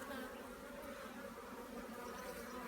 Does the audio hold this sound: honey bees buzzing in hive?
yes